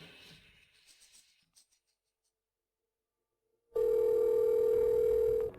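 After a few faint rustles and near silence, a steady telephone dial tone sounds loud and unbroken for nearly two seconds as a call is placed.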